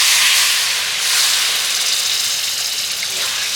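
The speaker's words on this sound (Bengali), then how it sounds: "এবার আমি এর মধ্যে দিয়ে দেবো জল তো খুব বেশি জল না অল্প একটু জল দিতে হবে" A little water is poured into a hot pan of cooked spiced masala and bursts into a loud, sustained steam hiss that swells briefly and stays close. No voices are heard.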